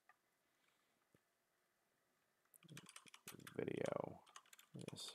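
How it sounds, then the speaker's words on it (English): Slow typing on a computer keyboard: a couple of isolated clicks early, then irregular close keystrokes mixed with speech later on. "Apologize for the slow typing."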